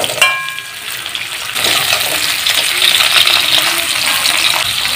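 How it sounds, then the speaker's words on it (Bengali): Bhola fish fry in hot oil in a village kitchen: a clatter and a brief metallic ring, then a loud, steady sizzle and crackle continuing close up. "মাছগুলো একটা দিক ভালো করে ভাজা হয়ে গেছে, আর একটা দিকে আমি উল্টে দেবো।"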